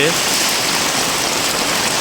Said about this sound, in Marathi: जो रात्रीपासून पाऊस पडतो आहे तुफान असा